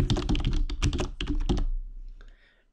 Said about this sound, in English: we're going to type in the word sad there